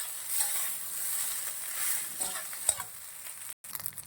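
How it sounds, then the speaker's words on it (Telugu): Rice is mixed into soya chunk and egg fried rice in a hot pan, giving a steady close sizzle with scraping stirs and a sharp click near the end, then a brief silent break. "ఇలా రైస్ మొత్తం వేసుకొని ప్రాపర్గా మిక్స్ చేసుకోవాలి"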